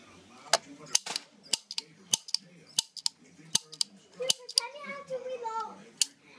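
Rapid bursts of video game gunfire crack out as a dozen or so sharp, closely spaced shots, with a brief break of mechanical clatter near the end, loud and clear with no talking.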